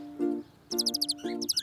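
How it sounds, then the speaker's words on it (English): Birds chirp in short, quick bursts of high twittering, over a few low tonal notes in a brief moment. "You're right. Those are birds."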